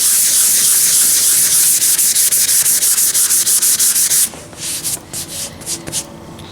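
Sandpaper is worked by hand over peeling leather, giving fast, rhythmic close scratchy strokes that then give way to slower, lighter, uneven rubs.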